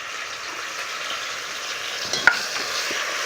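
Ground spice paste for a bata fish curry with bay leaf, frying in a hot pan as it is stirred: an even, close sizzle with a sharp scrape or clatter near the end.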